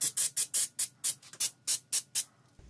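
Spray paint going onto a winch mount for a DIY gantry crane, heard as about eleven short, evenly spaced hissing bursts close to the mic, each cut off sharply, with no talk.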